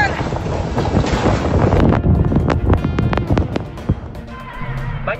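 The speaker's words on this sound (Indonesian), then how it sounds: "Angin kuat." Strong storm wind roaring and buffeting loudly during a flood storm in Johor Bahru, with gusty bursts, rattling and sharp clatters near the end as debris and roofing are struck.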